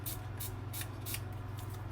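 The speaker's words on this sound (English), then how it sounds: "So I'm going to spray some here." Several quick hissing bursts from a spray bottle, about six in an irregular rhythm over a low steady hum.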